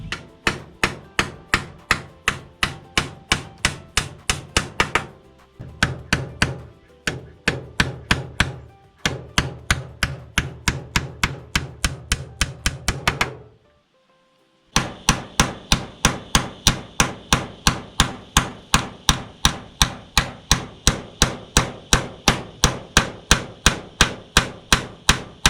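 A hammer drives nails into split bamboo laid over a screen, in long runs of sharp, evenly paced strikes separated by short pauses, loud and close with no voices.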